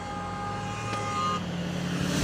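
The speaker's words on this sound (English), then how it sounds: "they're not gonna be pleased because getting lots of honks" A passing car's horn honks briefly over a steady roar of nearby street traffic, with no talking.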